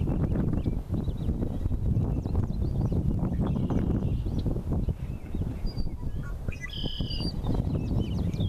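A red-winged blackbird gives sharp chirps and calls while attacking a white-tailed deer, brief notes standing out over a dense outdoor background of rustling and ambient noise, with a clearer call near the end.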